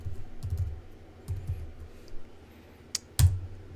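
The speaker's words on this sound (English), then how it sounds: "Just type in a name." Name being typed on a computer keyboard, with a few short clusters of soft key clicks and a louder final keystroke, close and quiet with no talking.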